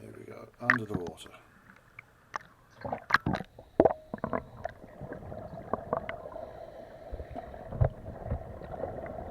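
A scuba diver in a dry suit goes under at Kilcummin Pier, with bursts of bubbling and gurgling water close to the mic, broken by muffled thumps and knocks while he descends.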